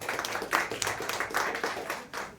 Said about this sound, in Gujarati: વર્ષા દીદી માટે તાળીઓ થઈ જાય.